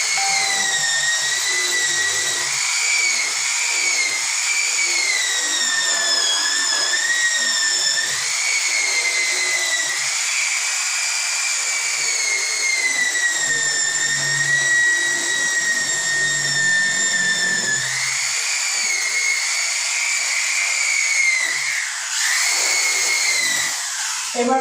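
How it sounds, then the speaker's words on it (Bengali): A grinding machine fitted with a wire brush scours rust off corroded machine liners, giving a loud, steady high-pitched whine that runs continuously with slight pitch wavering and no speech. "এই জংগুলো আমরা এখন মেশিন নিয়ে ওয়্যার ব্রাশ দিয়ে, গ্রাইন্ডিং মেশিন দিয়ে আমরা এই জংগুলো শুকাবো।"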